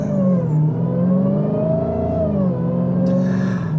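A 2021 Dodge Charger Hellcat Redeye Widebody accelerates hard with its wheels spinning. The supercharged engine roars loud and close with a steady rising and falling whine, continuous throughout, and no voices.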